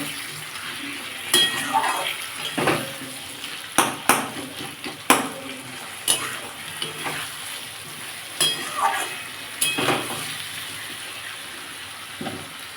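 Potatoes fry in a pan, sizzling steadily while a utensil scrapes and knocks against the metal in irregular, fairly loud strokes.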